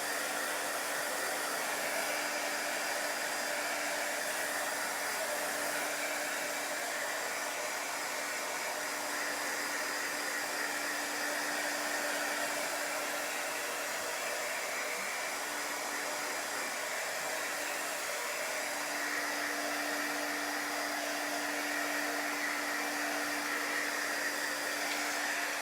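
A hair dryer runs steadily and continuously, drying a wet chalk transfer during a Chalk Couture craft session, with a constant airy whoosh and a faint motor hum throughout and no talking.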